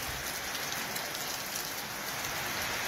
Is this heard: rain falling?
yes